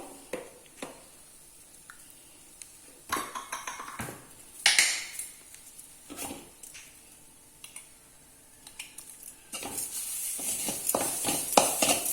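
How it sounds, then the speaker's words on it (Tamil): Grated coconut roasting in ghee in a pan, with irregular clinks and scrapes of a spoon stirring against metal and a soft sizzle that grows denser and louder toward the end; no one speaks. "இதை நம்ம நல்லா நெய் விட்டு வறுத்துக்கணும்."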